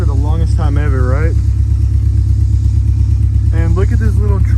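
Honda Civic engine with a blown head gasket running at a loud, steady, throbbing rumble close to the microphone, with a voice talking over it in two stretches.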